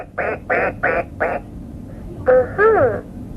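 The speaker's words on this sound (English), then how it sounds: "This is a duck." Duck quacks played by an RFID electronic toy animal reader, four evenly spaced quacks followed by two longer, warbling ones, clear and close in a quiet room.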